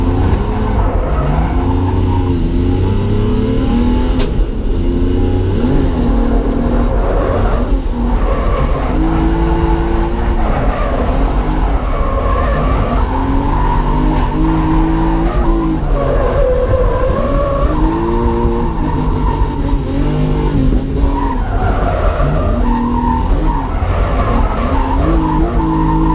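A drift car on brand new tyres at Driftland UK revs hard and skids continuously, engine note rising and falling under long tyre squeal, loud and close throughout with no talk.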